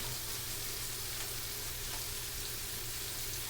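Steak and peppers sautéing together in a pan for a steak bagel give a constant, dense sizzling hiss at an even level, close and uninterrupted, with no voices.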